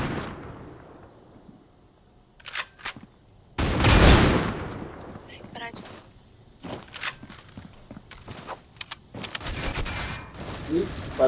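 Gunfire in the mobile shooter Critical Ops during a ranked match rings out as sharp bursts and one heavy volley, mixed with footsteps and scattered game effects.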